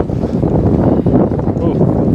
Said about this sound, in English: Oh, got windy.